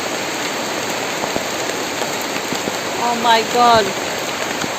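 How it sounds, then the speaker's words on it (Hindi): Steady, dense hiss of heavy rain pouring down in a village throughout, with a brief exclaiming voice cutting through partway. "बहुत बारिश आ रही है।"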